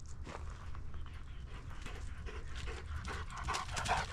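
A dog pants steadily at close range while padding along on a walk outdoors, quick rhythmic breaths rising slightly louder toward the end, with no talking over it.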